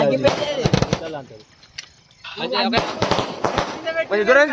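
Several sharp firecracker bangs pop in quick bursts, separated by a brief lull, amid loud excited voices.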